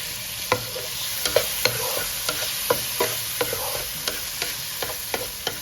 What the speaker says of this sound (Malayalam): നമ്മുടെ അരിഞ്ഞു വെച്ച തക്കാളി, വളരെ ചെറുതാക്കി അരിഞ്ഞു വെച്ചിട്ടുള്ള തക്കാളി അതിൻ്റെ വെള്ളത്തോടു കൂടി ഒന്ന് ചേർത്ത് കൊടുക്കാം